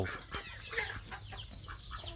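Close, busy calls from a Rouen duck: a series of short, raspy clucks and squawks repeating over a short stretch, with no voices.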